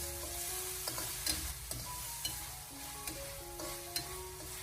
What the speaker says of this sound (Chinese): 然后再继续的给它翻炒一小会，把酱料的酱香味翻炒出来。